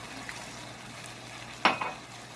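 Aloo gobi stirred in a cooking pan after water is added: quiet background, then a single sharp scrape of the spoon against the pan followed by a softer second scrape, close and brief.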